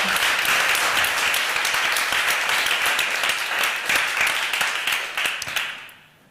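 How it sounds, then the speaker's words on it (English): An audience at a diversity keynote and panel breaks into sustained applause for a speaker named Kenza, a dense steady clapping that holds before fading out at the end. "So big applause again for Kenza."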